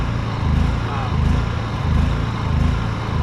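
A small backup generator engine runs rich under throttle, a loud, close, steady putter with a slightly uneven pulsing rhythm.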